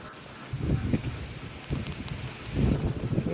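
Gusts of wind buffet the microphone in low, rumbling bursts that swell and fade, with a steady hiss of air between them, on a misty hillside resort in Wayanad.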